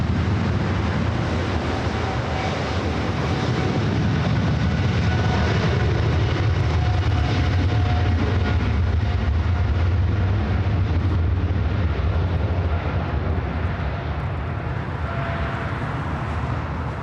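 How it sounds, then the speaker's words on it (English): A Boeing 777 freighter taking off at LAX, bound for Shenzhen. Its engines build to a loud, sustained roar and rumble that holds steady throughout, with no voices over it. "Cleared for takeoff heading to Shenzhen in this 777 freighter"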